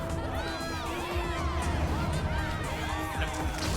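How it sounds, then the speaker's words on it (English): In the video game Danganronpa Ultra Despair Girls, a mass of voices whoops and cheers together, a thick, sustained babble of swooping shouts that stays fairly loud and even from start to finish. "Are the children cheering or are that adults cheering?"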